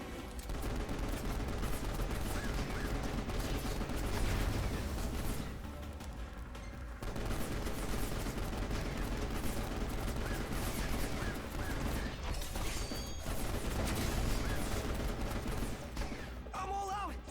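Rapid bursts of submachine-gun fire in the video game Final Fantasy XV, loud and dense across most of the stretch with a brief lull midway, layered over game music and effects.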